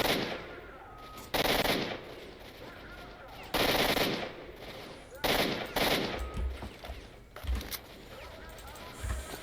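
Bursts of automatic weapon fire from an in-game firefight in STALKER: Shadow of Chernobyl Enhanced Edition, loud repeated volleys separated by short pauses, with lighter scattered shots between them.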